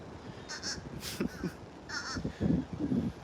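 Blackbirds calling at a beach by a pier, a few harsh caws repeating in short bursts over steady wind and surf noise, fairly near and moderately loud.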